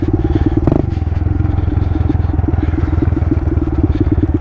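A pit bike motorcycle rides through dry desert scrub in the Hollywood Hills, its small engine putting out a loud, close, rapid rhythmic putter that stays steady throughout, with a brief clatter early on.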